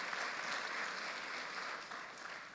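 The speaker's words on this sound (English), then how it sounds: "Please give a round of applause for that again." A conference audience at a criminal justice innovations gathering applauds, a steady wash of clapping from many hands that fades slightly toward the end.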